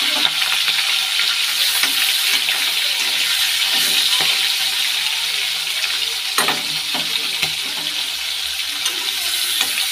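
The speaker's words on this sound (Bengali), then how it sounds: "মাছটা এখন ভেজে নেব।" Fish frying in an unwashed pan previously used for potato fries, a steady broadband sizzle running throughout with occasional sharper crackles and pops, fairly close and loud.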